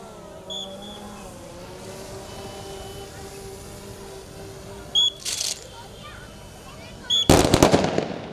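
CISF constables fire rifle volleys at a passing-out parade: one sharp crack partway through, then a louder crackling volley near the end, both standing out against a quiet background of faint tones.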